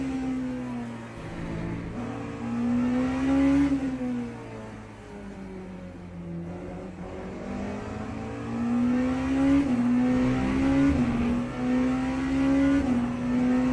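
A Porsche race car engine in the racing game Le Mans Ultimate, running at high speed. It drones loudly and continuously, rising and falling in pitch through repeated upshifts and downshifts over about fourteen seconds.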